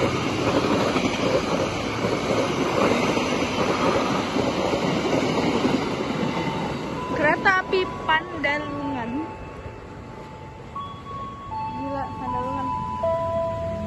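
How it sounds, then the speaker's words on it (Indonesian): KRL commuter train passing Klender station in Jakarta, a steady loud rumble of the approaching train with a horn sounding in clear tones near the end, while people talk over it. "Udah bunyi nih malah."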